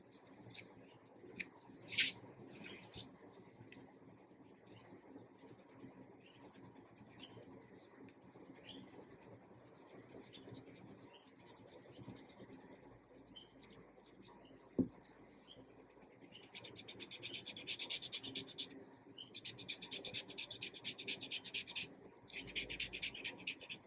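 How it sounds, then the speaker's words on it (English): Pencil shading scratching along a Zentangle outline on paper for a HEARTY WYF tangle, a soft, steady rubbing that turns brighter and denser in the last third, close and quiet with no talk. "add my pencil right next to that outline that we just created"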